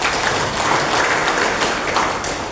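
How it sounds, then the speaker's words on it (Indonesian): Dense, lively applause from a crowd at a union branch assembly of the SPSI workers' union at PT Angsa Daya, a steady wash of many hands clapping for the whole stretch with no speech over it. "dengan aplaus yang meriah"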